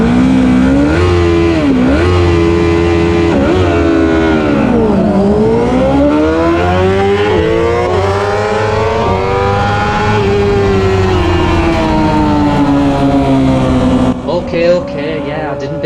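Superbike race start in the Pirelli Super Series 1000 round at Croft, with loud engines revving hard through rising and falling harmonic sweeps as bikes accelerate away, a continuous dense roar that cuts out briefly near the end.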